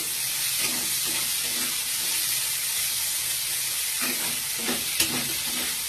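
Chopped tomato, ginger, garlic and green chilli fry in a pan with a constant close hiss and sizzle, punctuated by soft rhythmic stirring scrapes and a sharp clink near the end, with nobody speaking.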